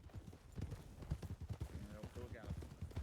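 A horse gallops in the Wild West game Red Dead Redemption RP, its hooves striking in a rapid, steady clip-clop rhythm while a voice talks over it.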